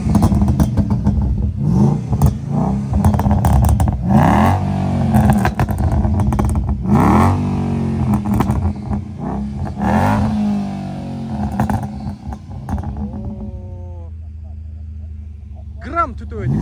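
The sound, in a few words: Mercedes-Benz W202 AMG engine revving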